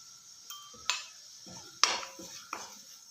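Spoon scraping and stirring keerai palya, a leafy greens stir-fry, in a pan, with several sharp clinks of metal against the pan at irregular intervals over a faint background and no talk.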